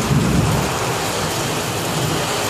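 Steady, dense rain pours down in humid Dallas with a low rumble of thunder rolling underneath near the start, loud and continuous with no voices.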